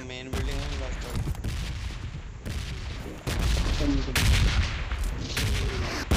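Bombs going off nearby in PUBG Mobile, a run of loud close booms and gunfire bursts cutting in and out, with a player's voice briefly under the blasts.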